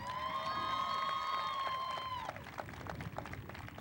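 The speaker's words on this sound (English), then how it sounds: "let's give a round of applause again to all the counselors and administrators here at Cibola" A graduation audience at Cibola High School in Yuma, Arizona, 2015, applauds counselors and administrators, with steady crowd clapping and cheering throughout. Tonal whistles or horns sound over the clapping for the first two seconds.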